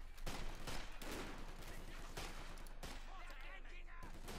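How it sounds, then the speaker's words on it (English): Gunfire in the real-time strategy game Company of Heroes 2, dense repeated shots and bursts layered over battlefield din, with a voice talking over it. "Yeah, that's him shooting."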